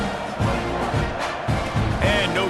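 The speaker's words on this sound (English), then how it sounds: "this crowd is buzzing after that last score" A college football stadium crowd at ASU at Texas A&M buzzes after a touchdown, a loud, steady roar filling the whole stretch while voices carry over it.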